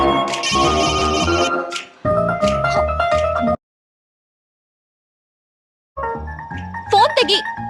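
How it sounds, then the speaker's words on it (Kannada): A telephone rings in a melodic electronic tone, sounding in bursts separated by a few seconds of silence, loud and close, with voices talking over parts of it. "ಫೋನ್ ತೆಗಿ."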